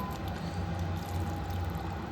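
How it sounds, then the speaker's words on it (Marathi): Water pouring steadily into a clay pot of chicken gravy, a continuous soft splashing rush that stays even throughout. "थोडंसं पाणी टाकूया अजून."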